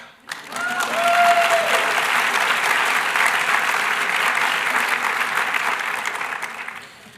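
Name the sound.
audience applause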